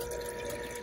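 A Pearl watch cleaning machine swishes and churns a parts basket in cleaning fluid, giving a steady, close whirring wash of liquid with no pauses.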